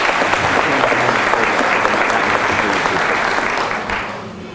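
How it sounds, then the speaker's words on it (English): A banquet audience at an annual chamber of commerce awards evening breaks into loud, sustained applause, a dense wash of many hands clapping that holds steady and then begins to taper off near the end. "Hey, that's a round of applause right there."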